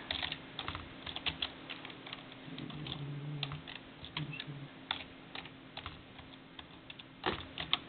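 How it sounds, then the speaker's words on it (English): Keys on a computer keyboard tapped in quick irregular bursts, close and fairly quiet, with short pauses between runs of typing and no talk. "Let me type it in."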